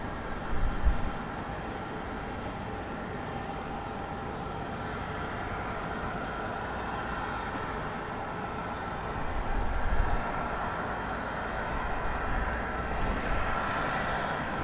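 Steady distant roar of an arriving airliner at Raleigh-Durham International Airport at sunrise, a low continuous engine rumble that swells slightly, with no voices.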